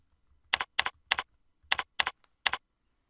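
Several crisp, close keystrokes on a computer keyboard, typed in a quick uneven burst of about seven taps with a short pause midway, in an otherwise silent room.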